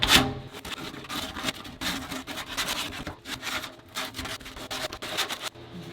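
Hand sanding over the contoured trunk surface of a 1966 Buick Riviera makes soft, close rubbing strokes in an uneven back-and-forth rhythm, alone with no talk.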